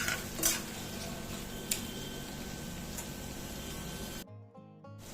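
Mixed vegetables with pointed gourd and potato being stirred in a pan, a steady scraping and clinking of a spoon against metal with a couple of sharper knocks, ending in a brief quieter moment.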